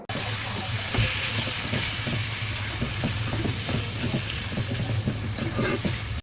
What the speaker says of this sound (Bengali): এখন আমি দিয়ে দিচ্ছি কচু শাকগুলো।